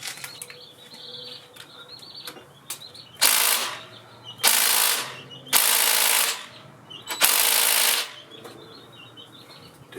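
Socket wrench working a 12 mm bolt during a rebuild of a Honda VT700C motorcycle: four loud, harsh bursts about a second long, evenly spaced, close by over quiet background ambience with faint birdsong.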